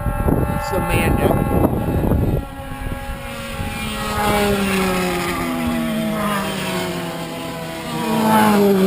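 An enduro race motorcycle with a long pipe, likely a piston-port two-stroke, races on the Grattan track, its engine rising and falling in pitch as it passes, loud then fading, with people talking over it.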